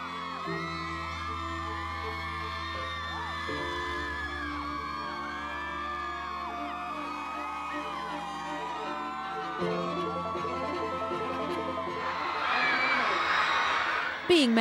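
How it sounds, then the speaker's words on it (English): A crowd of thousands of screaming fans, many young and dressed in Hogwarts robes, at a Harry Potter premiere: whoops and yells over a steady tonal backdrop, swelling into louder cheering near the end. "Being met with thousands of screaming fans would be quite a test for anyone"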